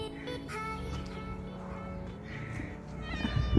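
A house cat meows in a long drawn-out call, close and fairly clear over low background noise, with the sound growing louder toward the end.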